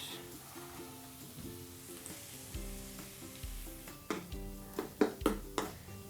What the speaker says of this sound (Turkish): Havuçları da ekliyorum onlar da pişsinler.